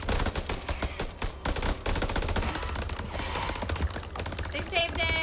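Gunfire in the horror game House of Ashes: a loud, continuous barrage of rapid automatic shots layered with heavy low rumble and battle noise, sustained across the whole stretch.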